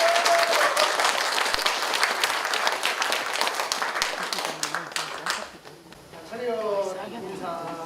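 Audience applause at a Won Buddhist talk concert as panelists come on stage: dense, loud clapping from a crowd that fades out after about six seconds, followed by a voice speaking over a quieter room.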